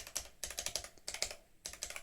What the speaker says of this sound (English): It's actually quite a nice sound to the keyboard as well